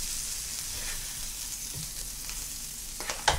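Food sizzles on a George Foreman grill in a steady, fairly quiet crackle with a few sharper pops near the end.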